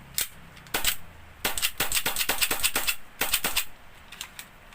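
An airsoft SRC HiCapa pistol with an SRC magazine fires gas blowback shots, sharp clacking reports in quick irregular bursts and pairs, close and loud, with brief pauses between strings.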